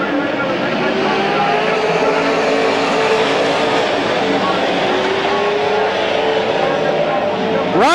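Race cars roar around the oval at Midvale Speedway in a steady, loud drone of engines throughout, with an announcer talking over the racing.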